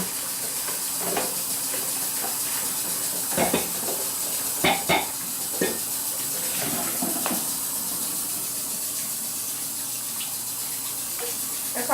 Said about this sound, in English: As I'm washing this out, nice hot water, nice and clean.